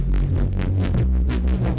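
Electronic wobble bass patch heard in repeating variations, a steady heavy low-end drone pulsing with rhythmic filter sweeps that open and close roughly every half second, loud and continuous with no voices.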